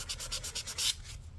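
A 2000 grit abrasive pad rubs along the edge of a 7-string bass guitar fretboard, making quiet, rhythmic scratchy strokes in a quick series, close and alone.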